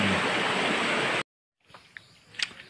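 A river below a steep slope in Sabang, Pinamalayan, Oriental Mindoro rushes steadily for about a second, then cuts off abruptly, leaving quiet with a few faint thuds and rustles.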